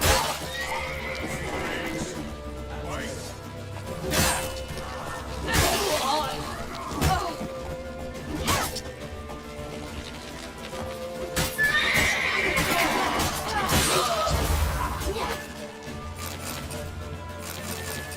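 A horse neighs loudly amid clopping hooves, crashes and busy action in The Witcher 3, with voices calling out over the din.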